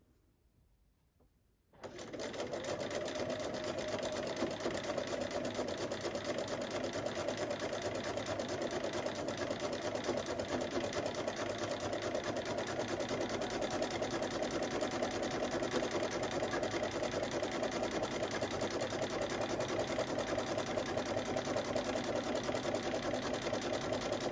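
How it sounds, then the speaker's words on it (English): A sewing machine runs steadily as it stitches quilt fabric scraps, starting after a short near-silent moment and then holding a fast, even mechanical chatter close up with no talking. "I'm holding onto my threads and I'm gonna start stitching."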